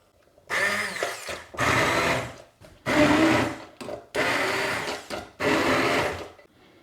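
A blender blitzing carrot-leaf soup in loud whirring bursts, about five pulses of a second or so each, separated by short pauses, close to the microphone with no talking.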